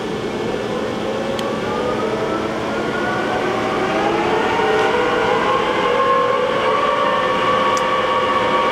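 Johnford ST-40G-CF CNC lathe from 2007 running in its fourth gear range, a loud steady mechanical drone with whining tones that slowly rise in pitch as the spindle speeds up, with faint ticks over it.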